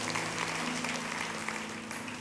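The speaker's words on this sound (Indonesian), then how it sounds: "kasih tepuk tangan untuk Tuhan Yesus sekali lagi" A church congregation at an Easter service claps together, a faint, steady wash of applause heard from a distance with no other sound over it.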